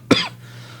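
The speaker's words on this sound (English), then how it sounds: "God, dude, all the coughing." A single sharp cough bursts out close to the microphone, over almost at once and followed by a faint steady hum.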